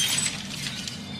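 Bright glassy crash of a glass coffee table shattering, followed by a short spray of tinkling shards that fades out in a little over a second.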